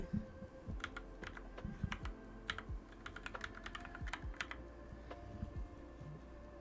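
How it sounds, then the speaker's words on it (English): Crisp, clicky computer keyboard typing in quick irregular bursts, close and fairly quiet, with a soft low thumping underneath. "we get this super clicky"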